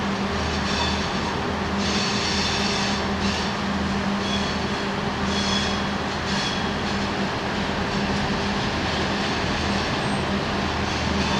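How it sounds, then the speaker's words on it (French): A single-car diesel commuter railcar train rolls along steadily, its wheels clicking and rumbling over the rails, with a constant engine drone and occasional faint squeals. "Les trains de banlieue sont constitués d'autorails à une seule caisse"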